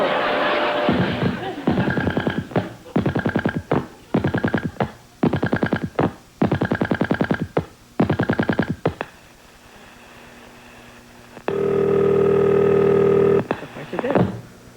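Telephone touch-tone dialing beeps in quick bursts on a 1972 TV game show, followed by a long steady answering-machine tone signal, with a studio audience and host voices around it.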